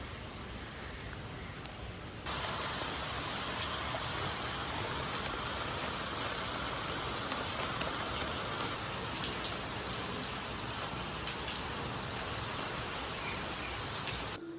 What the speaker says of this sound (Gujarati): કેટલા દિવસ પછીનો વરસાદ ચાલુ થઈ ગયો ખરેખર